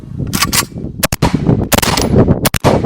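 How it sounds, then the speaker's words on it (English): Three quick rifle shots from a Krebs M23 AK firing M193 ball ammunition at an outdoor range, loud sharp cracks spaced a fraction of a second apart, with a short echoing tail after each. "We're gonna pump 3 rounds down range of each of these bullets and see how accurate we can get this bad boy."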